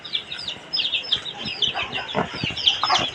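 Newly hatched native chicks peep continuously in high chirps alongside occasional hen clucks, close and steady throughout, with brief faint talk.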